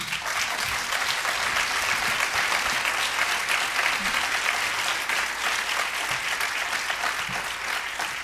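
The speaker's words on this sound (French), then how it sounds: "si vous le permettez, que vous puissiez applaudir avec chaleur Akila El Sodi et Malik Bezou." Sustained, dense applause from a conference audience, many hands clapping warmly and evenly for the full stretch, loud and close with no pauses.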